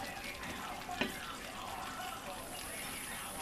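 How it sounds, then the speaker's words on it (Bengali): Duck meat stir-fried in a pan over medium heat, giving a steady, close frying sizzle with a faint clatter of stirring near the start. "চুলার আঁচটাকে মিডিয়াম করে এটাকে আরও একদম কষাইয়া সিদ্ধ করে নিব এবং মাঝে মাঝে নেড়ে দিব"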